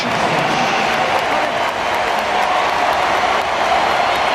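Stadium crowd applauding and cheering as a substituted Australian footballer leaves the pitch during a 2010 friendly against Paraguay, a steady dense roar of clapping filling the whole stretch.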